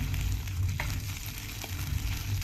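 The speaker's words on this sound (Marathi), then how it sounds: "आणि त्याच्यावर लगेच भुट्ट्याचा पीस टाकते हा चांगला आपल्याला एक ते दोन मिनटं परतवून घ्यायचं आहे" Steamed corn kernel pieces sautéing in ghee for a corn kheer, giving a soft, steady sizzle with a couple of faint stirring clinks, close and continuous with no talk.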